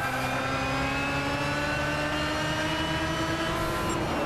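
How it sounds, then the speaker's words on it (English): A car engine in the racing video game Gran Turismo 6 revs loudly and steadily, its pitch climbing in long sweeps with a smooth, continuous roar and no voices. "I'm just admiring the sound of this car, it just sounds so nice."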